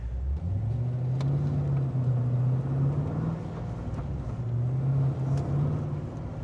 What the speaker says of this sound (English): we're in 4th gear, lugging away, doing 40 k's.